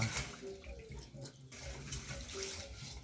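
Food being washed in a basin of water, with close, continuous splashing and sloshing over a short stretch.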